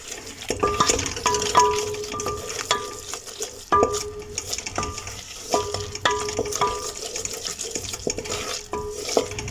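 A spoon stirs a white sauce base for pasta in a pan, scraping and clinking against the metal in irregular strokes over a low background sizzle.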